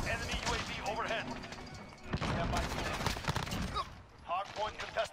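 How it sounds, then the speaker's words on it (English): Repeated bursts of automatic gunfire rattle through a Hardpoint match on the Scrapyard map in Modern Warfare. The shots crackle in short clusters at moderate loudness, mixed with game noise and occasional voices. "I'm taking fire."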